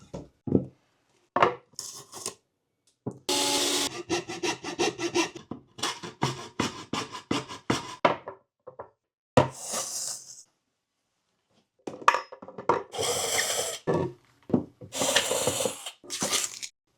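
A hole is punched out of a wooden board for a wall-mounted PC build, heard as bursts of rough scraping, rasping and cracking wood with short pauses between them, close and fairly loud.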